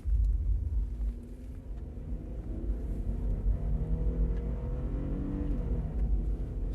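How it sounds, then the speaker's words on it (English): An 1989–1992 Mazda MPV accelerating hard toward 100 on a straight road, a low steady engine drone heard from inside, rising gradually in pitch with a gear change partway through. "we're going to run the Mazda MPV up to 100 and see how long it takes"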